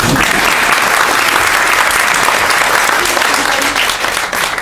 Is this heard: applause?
yes